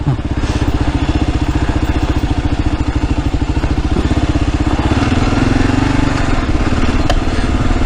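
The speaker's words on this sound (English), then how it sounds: "the KLR just lugs up it in first gear, no problem" A Kawasaki KLR650 motorcycle lugs up a steep hill in first gear, its single-cylinder engine thumping in a loud, steady low pulse close to the listener throughout.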